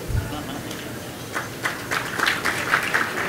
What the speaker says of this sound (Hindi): एक ताली बजाओ सब ताली बजा देंगे